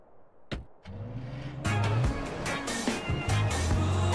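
Car in the video game GTA San Andreas Multiplayer, a door-like thump followed by the engine starting and idling in a low steady drone, then getting louder with rising revs, all fairly close.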